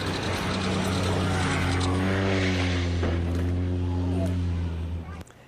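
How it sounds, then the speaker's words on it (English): Low-flying tourist seaplane with about 11 aboard skimming over coastal water off Washington State, a loud steady propeller-engine drone with rising and falling harmonics lasting throughout, cutting off abruptly near the end. "You can see the plane skimming low over the water before banking hard and crashing into the rocky shoreline"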